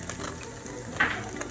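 Garlic frying in cooking oil for chicken chow fun, a steady low sizzle running throughout, with a brief brighter crackle near the middle.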